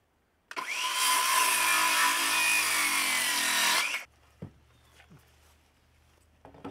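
A power drill driving a screw into a piece of 2x6 lumber on a cattle farm, one steady loud whir of about three and a half seconds that stops abruptly, followed by faint knocks and handling sounds.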